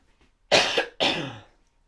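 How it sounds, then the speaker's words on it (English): Two sharp, close coughs in quick succession, the second slightly longer and trailing off, in an otherwise quiet room. "That cough hurt my head."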